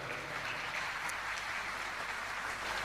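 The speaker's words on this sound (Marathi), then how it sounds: "जोरदार टाळ्या द्या" Applause from the crowd at a live Marathi stand-up comedy show in Vangani, a steady wash of clapping held at an even, moderate level throughout with no voice over it.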